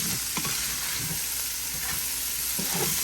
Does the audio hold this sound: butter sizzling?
yes